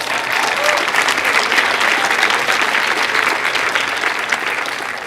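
Audience applause at a science slam, steady dense clapping from a large crowd holding a loud even level for about five seconds.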